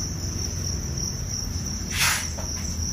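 Farmed field crickets chirp in a steady, high continuous trill, close and clear, with a brief soft rustle or patter partway through and no voices.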